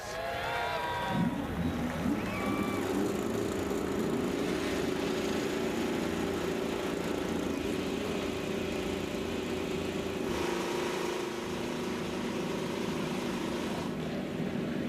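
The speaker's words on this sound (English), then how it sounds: "Drivers, start your engines!" Several IndyCar race car engines start up at the Detroit street circuit, an initial burst of cranking and revs settling into a loud, sustained multi-engine idle with a shift in tone near the end.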